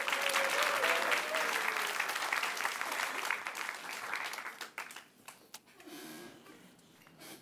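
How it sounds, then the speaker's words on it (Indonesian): An audience at a comedy show applauds loudly and steadily, then the clapping thins out and fades over the final seconds, leaving a few scattered claps and soft crowd murmur. "beri tepuk tangan untuk Rahman Apri."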